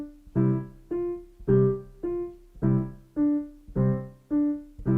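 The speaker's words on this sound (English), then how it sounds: "And then I'll add the notes in the right hand in time." Keyboard with a steady left-hand beat and right-hand notes placed in time between, giving an even alternating pattern of about nine short, clear piano-like notes, close and without talk.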